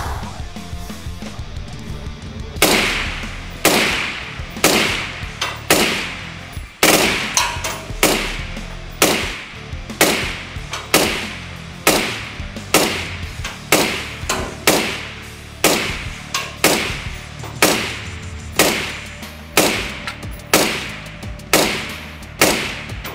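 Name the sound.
suppressed 5.56 NATO rifle shots, Troy Kryptos suppressor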